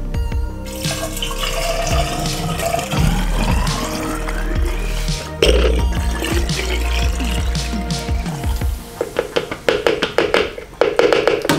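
Coolant pouring into the cooling system of a BMW E30 with an M52 engine swap, a steady close gurgling liquid stream that breaks into splashes and glugs near the end as the system fills.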